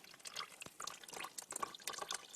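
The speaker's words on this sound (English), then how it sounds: "all that antifreeze from the reservoir is coming out" Antifreeze coolant drains from the reservoir of a 1988 Honda Shadow 600, making a faint, uneven patter of drips and small splashes that continues throughout with no voices.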